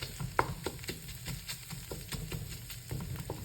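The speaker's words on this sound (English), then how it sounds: "I don't want my garlic to burn, so I turn down the heat a little bit" Garlic softening in a pan over turned-down heat gives a faint, steady sizzle, broken by a few light scrapes and taps of stirring close by.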